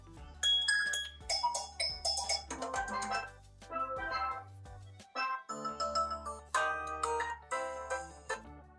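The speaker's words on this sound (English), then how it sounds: "Let's see what kind of ringtones this phone has got." An ASUS ROG Phone 5 plays its SIM 1 ringtone, a bright chiming melody of clear bell-like notes in a steady rhythmic pattern, close and alone with a brief pause midway.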